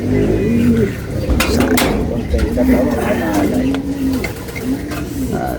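Soft, repeated coos of racing pigeons returning from a race sound close by, with a low murmur of voices and scattered clatter around them.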